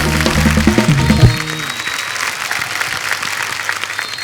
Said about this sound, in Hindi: एक बार जोरदार तालियां हमारे सब मेहमानों के लिए।